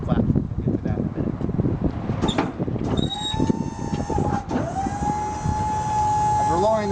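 A Maxon GPT4 tuckaway liftgate with a 4,000 pound aluminum level ride platform being lowered, a steady hydraulic motor whine holding a rising tone near and loud, under someone talking throughout.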